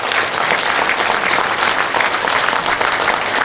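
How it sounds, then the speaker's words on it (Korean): Dense, warm applause from an audience at a special lecture welcoming the speaker, steady and fairly loud with no voices on top. "박수로 맞이하시기 바랍니다."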